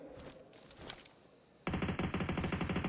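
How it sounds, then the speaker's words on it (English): Rapid automatic gunfire in the mobile battle royale PUBG Mobile erupts suddenly after a quieter stretch of scattered distant shots, then hammers on in a dense, even burst. "Mafioso barely can peek out before the bullets whiz past his forehead."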